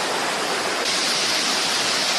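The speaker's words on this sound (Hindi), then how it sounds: "झरना बह रहा है, सफेद दूध जैसा पानी नीचे" Waterfall pouring white, milky water down into a valley at an ancient temple site, a dense, steady roar of falling water filling the scene with no voices.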